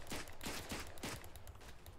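Rapid bursts of rifle and machine-gun fire crackle in a World War I battle game, several overlapping shots in quick irregular succession over a dense, noisy background.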